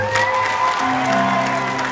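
An audience at Satinder Sartaaj's live show in Winnipeg claps loudly, with scattered cheers mixed into the crowd noise and a sustained tone running underneath.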